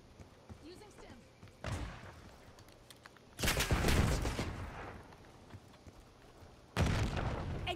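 Gunfire in Call of Duty Black Ops 6, heard as three separate bursts of shots with booming low-end impacts, the middle burst longest and loudest, over quieter game background with talking voices in between.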